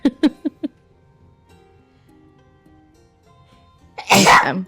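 Near the end of a quiet moment during a tabletop Pathfinder role-play session, one person lets out a single loud, close sneeze, preceded by a few short, soft sounds.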